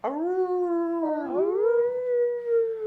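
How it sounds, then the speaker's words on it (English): A husky dog gives a long, steady howl in a high, puppy-like voice, rising and falling slightly for about three seconds, close and clear with no talking. "People love a good puppy howl"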